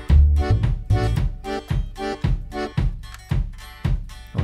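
An out-of-tune guitar filtered through a Pro Q equalizer, strummed in a steady series of about eight separate chords, each with a sharp attack that decays before the next. The guitar plays alone at moderate level.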